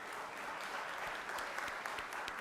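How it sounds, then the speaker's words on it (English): Senators in a legislative chamber applaud a family and friends seated in the gallery, a fairly quiet, even wash of many hands clapping with scattered sharper claps, heard at some distance. "gave Mariam's family and friends a round of applause"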